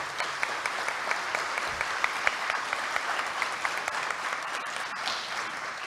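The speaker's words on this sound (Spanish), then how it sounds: "Así como lo dice don Olman, un fuerte aplauso." Steady applause from a conference audience for a panel on heritage sustainability at a cultural symposium, dense clapping filling the room, moderately loud and sustained without speech.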